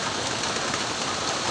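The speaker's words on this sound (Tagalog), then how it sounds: "Gabing ulan guys. Gabing ulan, oh." Steady nighttime rain pours down in a constant, close, loud hiss with no pauses and no voices.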